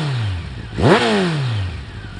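A motorcycle fitted with a Campagna T-Rex slip-on exhaust idles, then blips sharply into one quick rev that peaks and slowly falls back to a steady idle, close and alone.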